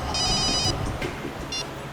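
A mobile phone rings with short bursts of a bright electronic tone, two clear pulses over a steady background hum in a police office.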